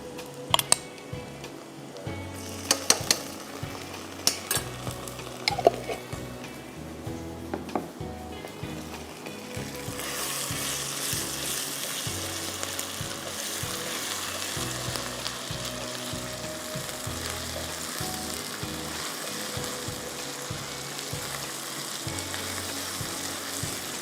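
Two tablespoons of ginger garlic paste go into a pan and are stirred. A few sharp taps and scrapes come first, then a loud, continuous sizzle of frying builds and holds steady.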